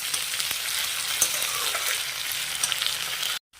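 Shelled green peas crackle and sizzle in a frying pan with a few stirring scrapes, a close, busy hiss lasting about three seconds before cutting abruptly to silence.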